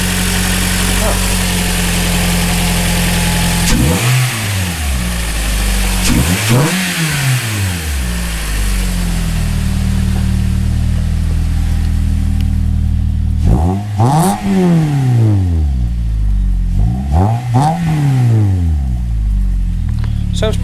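A 2014 Toyota Corolla engine fitted with a Weapon R header revs up repeatedly, with several sharp throttle blips rising and falling over a steady, loud idle, close by and with no talking.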